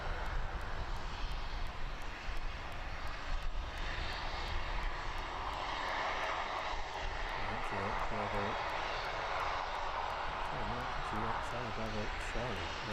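Aircraft taxiing at East Midlands Airport toward a hangar at the far end of the airfield, a steady broadband engine roar that holds level throughout, with faint voices underneath.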